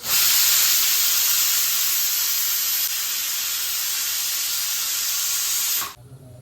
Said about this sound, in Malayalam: കുക്കർ ഇപ്പം ഏകദേശം കുറേ വിസിലായി